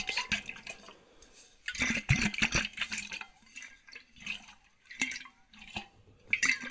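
Muffled liquid sloshing inside a bottle in irregular bursts, with drippy gurgles and short pauses between shakes.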